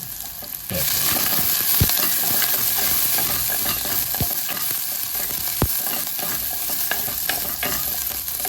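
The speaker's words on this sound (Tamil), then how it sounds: "கொஞ்சம் வெங்காயம் போடுறோம்" Chopped onion and curry leaves sizzle steadily in a hot pan for an aubergine curry, a continuous frying hiss with occasional sharp clicks and stirring scrapes close by, no voices.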